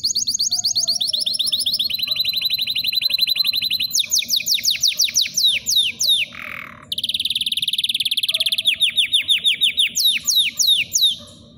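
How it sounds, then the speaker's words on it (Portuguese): A male Belgian canary sings loud, close trilling phrases with rapid repeated chirps and sweeping notes, broken by short pauses, with no voices present. "Então o vídeo vai ser agora só com esse canário."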